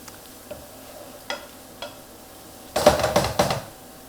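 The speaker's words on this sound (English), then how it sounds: "Stir the garlic in." Garlic stirred with a spoon in a pot, a few soft scrapes early on followed by a louder burst of stirring and scraping near the end. No talking.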